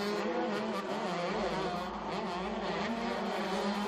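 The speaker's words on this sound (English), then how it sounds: "Sounds like he's either stuck in 1st or 2nd gear." Engine of a 125cc motocross bike stuck in low gear during an EMX 125 race at the MXGP of Germany, a continuous, strained high-revving buzz that holds at a steady pitch with slight wavering.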